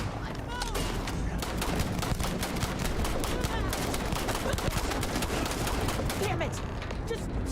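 A dense shootout in Starfield, with rapid overlapping gunfire and automatic bursts cracking continuously and loudly for several seconds, bright snaps layered over a rumbling low end.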